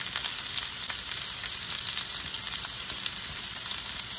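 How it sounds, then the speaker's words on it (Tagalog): Garlic and onion frying in a pan for pancit with Chinese sausage, giving a steady, bright sizzle with crackling spatter throughout and no talk. "isabay ko na ilagay yung garlic at saka onion"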